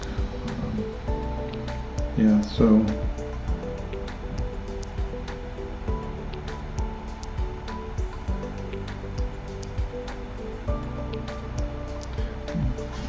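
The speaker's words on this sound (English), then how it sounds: "So there's several streams that run through the park." Steady running water of a stream through a metro park, a constant rushing wash heard outdoors, with brief talk near the start.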